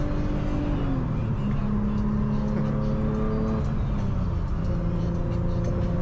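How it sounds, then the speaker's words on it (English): An 800hp turbocharged G37 drives with a droning engine note and a rising, whistling turbo spool, steady and fairly close, over background noise. "That turbo spool sounds so freaking disrespectful."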